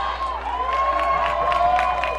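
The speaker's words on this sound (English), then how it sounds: "Pinkerton fans cheering on the defense." Pinkerton fans in the stands cheer at a high school boys lacrosse quarterfinal in Nashua, a steady crowd roar with whoops and shouts rising and falling over a sustained hum.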